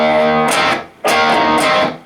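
Electric guitar playing a riff: two loud, sustained overdriven note phrases, each swelling and fading, played close with no talk.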